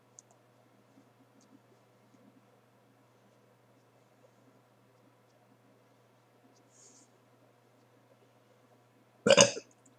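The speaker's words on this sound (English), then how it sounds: "Sorry, I just burped." A single short, loud burp from a man who drank a lot of fluid during training, arriving near the end after near-silence with faint background hum.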